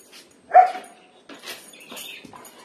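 A dog gives one sharp, close bark, followed by fainter yips and whimpers with scattered rustling.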